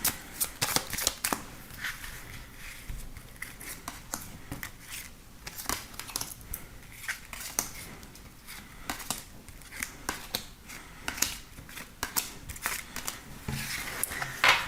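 Tarot cards are shuffled by hand for a reading, with a steady run of crisp riffling and slapping close by and brief pauses throughout, alone without talk.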